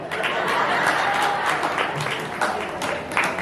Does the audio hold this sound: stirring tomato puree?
no